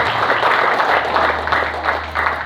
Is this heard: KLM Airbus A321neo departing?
no